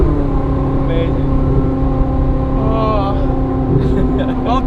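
A Ferrari 458 fitted with a Kline Inconel exhaust holds a loud, steady engine drone close by, with brief rises in pitch as it revs, while people talk over it.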